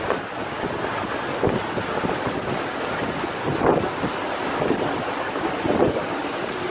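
Strong gusting wind from a possible tornado roars continuously, loud and close, with heavy buffeting against the microphone and surging peaks.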